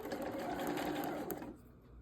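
A sewing machine hums steadily at close range, stitching the sides of a Christmas quilt block together with a quarter inch seam, then stops abruptly near the end.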